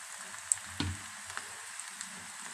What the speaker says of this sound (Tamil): இப்போ எண்ணெய் நல்ல சூடாயிருச்சு நம்ம பிசைஞ்சு வச்சிருக்க வெங்காயத்தை சேர்த்துக்கலாம்